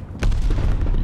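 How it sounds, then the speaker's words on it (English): A glide bomber airstrike explosion in Call of Duty Vanguard hits with a sudden heavy boom, then leaves a sustained low rumble that rolls on to the end. "Glide bomber assist coming in."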